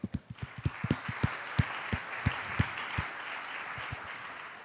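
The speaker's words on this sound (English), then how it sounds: "let's give a round of applause for them" At a Bitcoin conference in Bali, a modest round of applause for Asian guests: distinct individual claps, fairly close, quickly thickening into a brief patter that tapers off within a few seconds.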